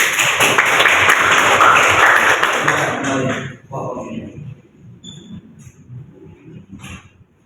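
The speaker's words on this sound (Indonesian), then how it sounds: "Aplaus." Applause from a classroom audience at a teaching session, dense clapping for about three seconds that tapers off into scattered claps and room murmur.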